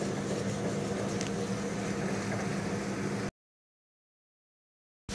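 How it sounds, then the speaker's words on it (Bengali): Spice paste sizzles and crackles as it is stirred and fried in a pan, a steady hissing fry for a few seconds before it cuts off abruptly to silence. "মশলাটাকে আমি নেড়ে নেড়ে ভুনা করে নিচ্ছি।"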